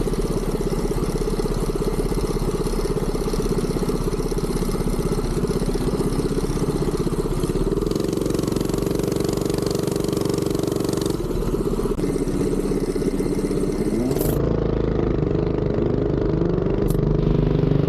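The Duromax 208 engine on a Coleman CT200 minibike, with governor removed, runs loud and close at a drag strip, holding a steady throaty idle-to-mid drone with a few rising revs and pitch shifts near the end.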